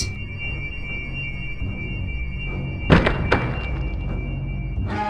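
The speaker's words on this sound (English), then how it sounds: "The crash of the heavy door on the rock floor below reverberates through the ancient castle" A heavy dungeon door in an ancient castle crashes onto a rock floor: two sharp, loud thuds close together, then a softer knock, over a steady low hum.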